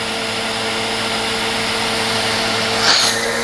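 A Sanitaire SC5713 HEPA commercial upright vacuum cleaner runs with a steady, loud motor whine and hum, its tone briefly shifting near the end as airflow changes.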